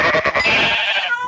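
A sheep in a video game bleats in one drawn-out, wavering call, loud and close with no talk over it.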